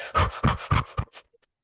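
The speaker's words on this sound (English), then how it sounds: "You start out breathing very, very quickly." A person performs a rapid breathing exercise, the fast opening stage of a breath ladder: about four quick, forceful panting breaths in a close, steady rhythm, then a stop and silence.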